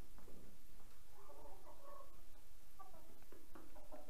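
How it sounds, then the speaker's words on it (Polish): Farm hens, about a year and a half old, clucking softly at a moderate distance, with scattered short calls rising over a steady low background. "Są to kury z fermy."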